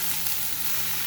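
Elephant foot yam stalks frying in a pan with a hilsa fish head, a continuous close sizzle and hiss with a low steady hum beneath.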